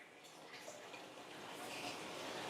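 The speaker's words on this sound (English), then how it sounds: "I'm filling up with regular old tap water" Tap water runs into a large fish tank, a faint, steady hissing pour with light splashing that grows a little louder over a few seconds.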